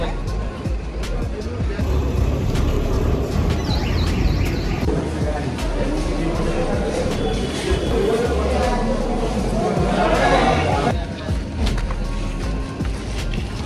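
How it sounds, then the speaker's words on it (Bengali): Busy crowd murmur on a railway station platform, with steady babble and shuffling, plus passing vehicle rumble and occasional chirps throughout. "প্ল্যাটফর্মে ভালো ভিড় আছে, কিন্তু ট্রেনে ভিড় নেই।"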